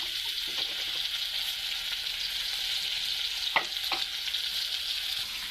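Sliced ridge gourd fries in oil in a pan with a steady, close sizzling hiss. A couple of brief stirring knocks sound in the middle.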